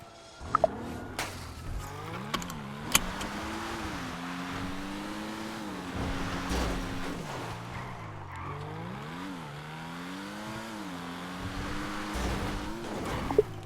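An Evo car driven in GTA V revs and drones steadily with shifting engine pitch and occasional tire squeal, a continuous close engine note throughout with no talking.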